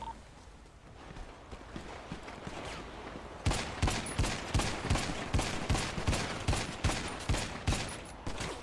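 Rapid gunfire during a police shootout training in a video game, starting quieter and sparse, then a loud sustained volley of evenly spaced shots in the second half, close and punchy.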